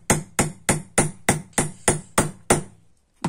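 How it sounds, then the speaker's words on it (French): A small hammer strikes a hole punch through paper nine times in a steady rhythm, each blow a sharp, close, loud knock with a short decay, the final strike trailing off into quiet. "Vous prenez un petit marteau et allez."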